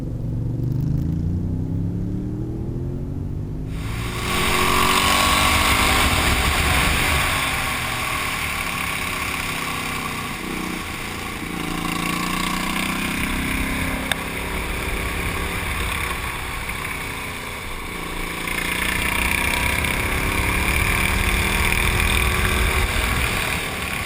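A Ducati Diavel cruiser motorcycle with a 240-section rear tyre is ridden on the road, its engine a steady, close drone whose revs swell and ease several times. No voices are heard.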